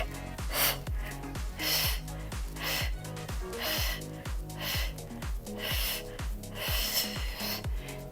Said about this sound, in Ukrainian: Додаємо видих, видих.